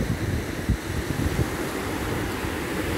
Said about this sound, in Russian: ветер юго-западный, как раз со стороны солнца сейчас, довольно-таки сильный